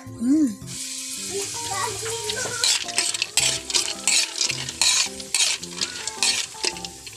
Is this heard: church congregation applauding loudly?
no